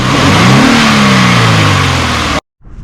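A loud, close 2015 Subaru BRZ engine rev climbs and then settles into a sustained drone before cutting off abruptly, followed by a brief faint rumble.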